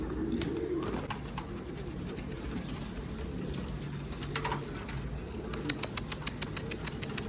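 Racing homing pigeons cooing outdoors over a low rumbling background, followed by a quick rhythmic series of sharp flapping beats near the end as a flock of 15-16 passes over a house.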